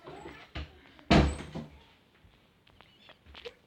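A room door being shut, a single solid thud with a brief rattle standing out alone against a quiet background, followed by a few faint small knocks.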